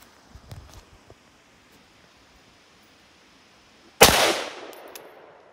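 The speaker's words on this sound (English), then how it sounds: "Now moving on to something more powerful than AK, an M14 loaded with M80 ball." An M14 rifle loaded with M80 ball fires at a Vietnam-era body armor plate. After quiet handling noises comes one loud, sharp shot that decays over about a second.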